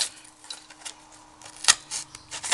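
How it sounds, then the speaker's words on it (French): Scissors cutting along the edge of a paper Advent decoration, a series of crisp, close snips and small crunching cuts at an irregular pace, with faint table handling sounds between them. "je vais prendre les ciseaux et je vais le terminer au ciseau"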